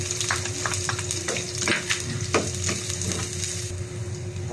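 Onion and garlic sautéing in a pan, a close, continuous sizzle with intermittent stirring scrapes over a steady hum.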